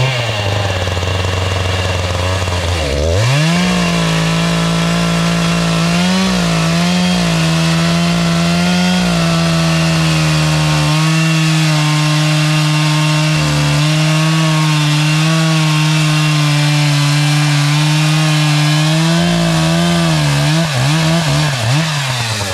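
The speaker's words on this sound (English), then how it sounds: "So more excitement we're going to get the chainsaw." A chainsaw runs loud and close for the whole stretch, its engine holding a steady high whine as it bites through the ends of logs, with brief dips where the pitch drops as the bar bogs in the wood.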